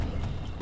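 A horse's hooves clip-clop in Conan Exiles, a brief, close, steady patter of a few beats.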